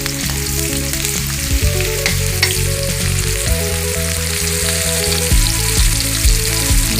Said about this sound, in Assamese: এইফালে আমাৰ তেল গৰম হৈ গ'ল। এতিয়া মই নহৰুখিনি প্ৰথমে দিছোঁ।